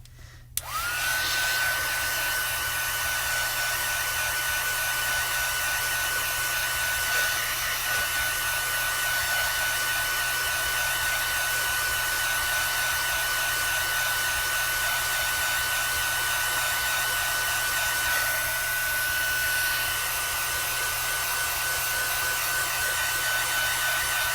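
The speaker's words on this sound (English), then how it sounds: "I'm going to heat set it real quick." A handheld craft heat tool blows hot air onto acetate, starting abruptly and then running as a loud, steady whooshing drone with a thin constant whine, uninterrupted and without speech.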